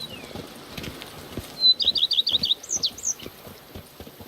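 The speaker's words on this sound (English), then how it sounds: "Even a horse drops if you ride it at a constant gallop." Horse hooves pound in a quick, steady rhythm at a gallop while birds chirp in a fast twittering burst over them, in The Witcher 3: Blood and Wine.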